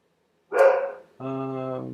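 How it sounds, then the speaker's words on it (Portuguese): A nearby dog gives two loud barks in quick succession, the first short and sharp, the second longer and more drawn out with a whining tone. "Como para variar, tá tendo latido aqui na minha cara."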